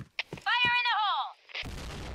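A grenade blast in a clan-war video game bursts into loud, rough noise near the end, right after a drawn-out shouted voice line.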